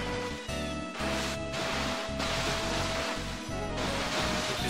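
Wave Race 64 video game water, a loud continuous rushing of waves and surf with brief dips, alongside steady game music tones.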